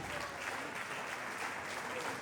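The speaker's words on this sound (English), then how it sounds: "Please, Benin City, clap for your own." An audience at a Train the Trainers summit in Benin City applauds, a steady wash of clapping from a crowd that continues evenly without pause.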